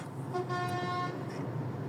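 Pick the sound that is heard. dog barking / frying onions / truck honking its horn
truck honking its horn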